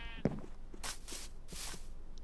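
A Minecraft sheep bleats once near the start, a short nasal cry, followed by soft footstep-like taps and brief bursts of hissy game noise.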